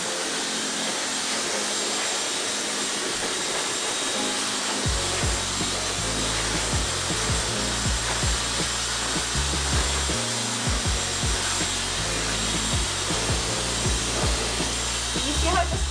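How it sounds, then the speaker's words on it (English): A hair dryer blows steadily while hair is dried upside down at the roots for volume, a continuous close whoosh with rubbing and handling noises over it. "blow dry my roots up for the volume"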